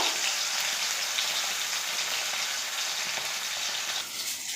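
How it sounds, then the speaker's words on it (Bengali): A katla fish head fries in hot oil, giving a continuous loud, close sizzle that fades slightly near the end, with no voices. "মাছের মুড়োটাকে তেলের উপর দিয়ে দিয়েছি,"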